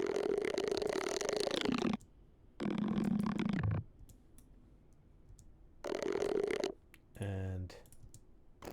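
Processed creature growls with a throaty, gargling texture come in several loud bursts separated by short pauses, ending with a rougher, buzzier growl.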